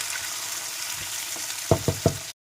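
Tomatoes sauté in a pan for garlic chili chutney, a soft steady sizzle followed by three quick spatula knocks near the end before the sound cuts off.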